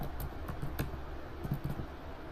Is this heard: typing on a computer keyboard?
yes